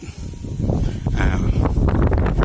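Strong wind gusting near giant wind turbines in Mukdahan, a broad steady rush with buffeting on the microphone that builds after the first second and stays loud throughout.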